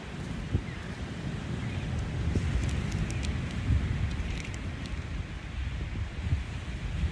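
Steady, close wind buffets the microphone in a continuous low roar with gusty swells.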